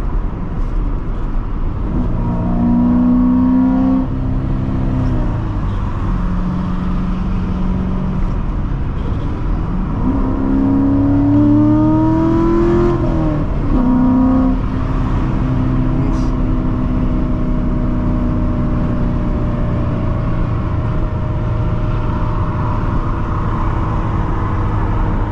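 A 2016 Chevrolet Corvette Stingray with a seven-speed manual gearbox, driven in track mode, roars steadily as the engine climbs through rising revs and gear changes, loud and continuous throughout from inside the car.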